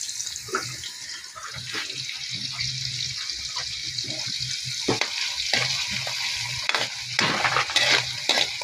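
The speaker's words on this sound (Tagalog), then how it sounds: "Yung mga mushroom natin. Ipa-fry lang din natin." Mushrooms fry in a pan with a steady close sizzle and crackle throughout, overlaid with scraping stirs and a few louder clacks of a utensil against the pan.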